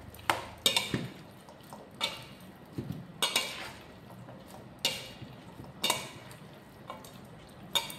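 A vegetable salad is tossed and mixed in a bowl, with irregular clinks, scrapes and soft wet stirring sounds close by, coming in short separate bursts.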